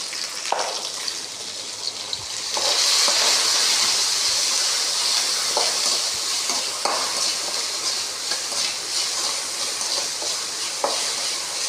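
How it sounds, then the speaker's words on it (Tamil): Vegetables sautéing in a pan with rock salt for a dried-red-chilli sambar, a steady close sizzle with irregular scraping stirs and clinks throughout, no voices. "கல் உப்பு போட்டுட்டேன். நல்லா வதக்கிக்கலாம்."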